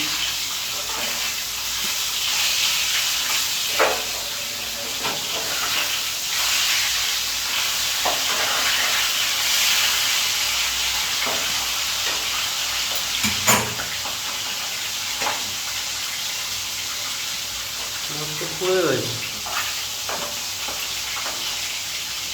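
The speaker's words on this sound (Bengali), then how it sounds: "কেউ হালকা পছন্দ করেন, কেউ ডিপ ফ্রাই পছন্দ করেন, যেরকম পছন্দ করেন ঠিক সেরকম ভাজবেন" Pieces of rohu fish fry in oil, giving a long, steady sizzle close by with occasional clinks and scrapes, and a brief voice near the end.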